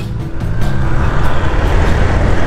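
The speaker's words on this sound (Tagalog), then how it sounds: "Medyo maraming sasakyan ngayon." Steady, loud road noise from cars and trucks on a zigzag asphalt mountain road in Pililla, Rizal, heard from a moving Aerox 155 scooter, a continuous rushing drone with passing vehicles and no talk.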